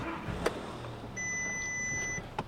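A salvaged Audi A3 S Line gives a single steady electronic beep of about a second as it locks, faint and set against quiet background with a couple of soft clicks around it.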